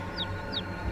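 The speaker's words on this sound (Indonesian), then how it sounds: "suara anak ayam." Baby chicks cheeping: two short, high, falling peeps, fairly faint over a steady low background hum.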